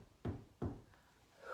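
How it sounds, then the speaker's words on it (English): Two sharp knocks on a door, close and fairly loud, a short pause between them, followed by a faint third tap during a children's library circle time. "waiting for someone to knock"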